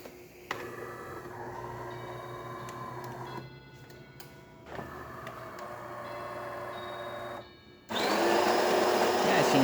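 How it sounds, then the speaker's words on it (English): A DeLonghi espresso machine grinder grinds coffee beans on its minimum setting, a steady close whirring drone that pauses briefly midway, resumes, then turns harsher and louder near the end. "Machine is grinding the beans right now and is depositing inside the funnel."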